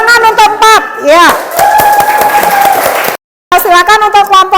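A classroom audience claps for group 4 before its presentation, a dense burst of applause in the middle with a teacher's voice talking loudly around it.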